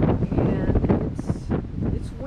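A windstorm gusts across the microphone outdoors in October, producing rough, rumbling buffeting that stays loud throughout, with faint higher sounds briefly rising over it.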